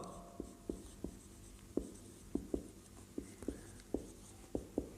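Handwriting on a board or paper, probably a physics lesson being written out, makes soft scratchy strokes and taps in an irregular rhythm. The sound is close and quiet, and no one speaks.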